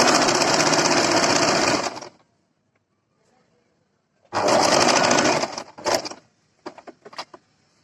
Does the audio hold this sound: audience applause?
no